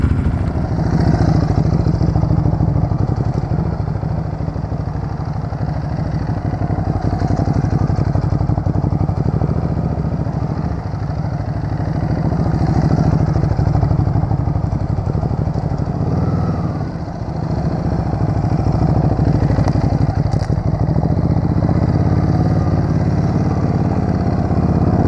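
A Ducati Hypermotard motorcycle engine runs at a steady low idle throughout on a test ride in Concord, California, a close mechanical drone with faint clatter and slight dips in level, no voices.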